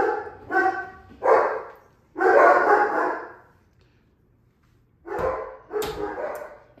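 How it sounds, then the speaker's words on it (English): Dogs bark in several bursts indoors, likely set off by someone walking past outside. The volleys are loud and close, with a short quiet gap before two more barks near the end. "There go the dogs."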